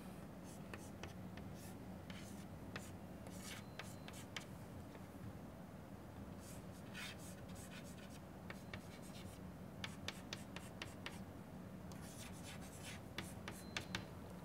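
Pen or marker scratching steadily across a board or paper while a molecule diagram is drawn by hand, with quiet rhythmic strokes in short bursts and no talking over it.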